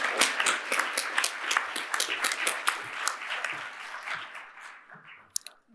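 Audience applause at an academic ceremony presenting new college members, a dense wash of clapping from a large crowd that fades out near the end.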